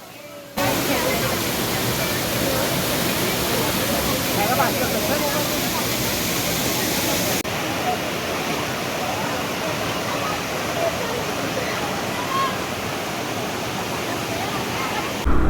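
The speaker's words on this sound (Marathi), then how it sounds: "हा आहे पळसधरी वॉटरफॉल मठापासून अवघ्या अर्ध्या तासावर हा वॉटरफॉल आहे" A steady, loud roar of falling water at Palasdari waterfall, Maharashtra, in the monsoon, fills the whole stretch, constant and broadband, with no pauses.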